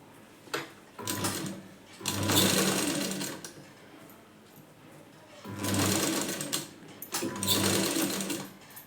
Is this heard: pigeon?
no